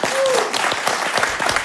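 Audience applause at a New Year show, a dense wash of clapping filling the hall throughout, with a voice faintly over it.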